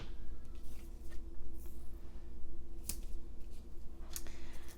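Scissors snip paper pieces for a scrapbook layout, with a few sharp, crisp cuts spaced unevenly over a soft steady background hum.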